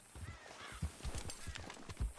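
Horse hooves clip-clop in a quick, rhythmic gallop in Red Dead Redemption 2 over a faint background, with a brief snort or whinny mixed in.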